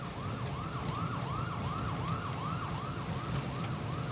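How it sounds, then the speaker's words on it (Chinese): A police car siren wails on the road ahead, its rising and falling electronic sweep repeating rapidly and steadily over the low rumble of traffic, loud and continuous with no voices. "你没看见前面有警车压着吗？"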